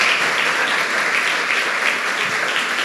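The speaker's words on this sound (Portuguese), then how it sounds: "Você pode aplaudir ao Senhor a sua palavra nesta noite?" A church congregation applauds steadily during an evening service, a dense, even wash of many hands clapping close by with no voices on top.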